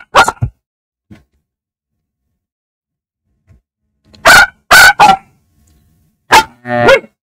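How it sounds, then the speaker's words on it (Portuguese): A dog gives several short, sharp barks and whining yelps close by, scattered in bursts with silent gaps between them. "Minha cachorra querendo."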